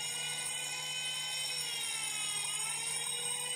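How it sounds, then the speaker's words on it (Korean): A fire alarm siren sounds steadily from the control panel of a water-based fire suppression training rig with sprinkler pumps, a continuous high-pitched electronic tone held at constant loudness throughout. "사이렌 경보가 울리고"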